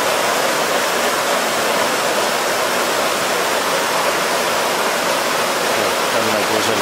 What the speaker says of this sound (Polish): Mieszkamy tuż przy tym maleńkim wodospadzie.